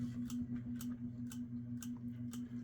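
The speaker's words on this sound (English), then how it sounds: "The bearings are dry. They do make scratching, whirring sound as well from just general wear and tear." Worn, dry bearings in a Key Largo 60-inch ceiling fan give a steady low whirring hum, with quiet scratchy ticks recurring about twice a second and no speech.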